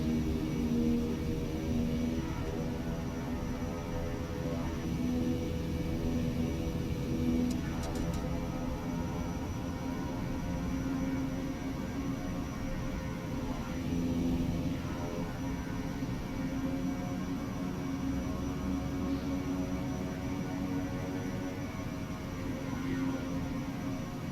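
A King Air C90 turboprop in X-Plane 12 taxiing toward the runway, a steady droning engine hum with a low tonal whine holding level throughout, faint voice at moments.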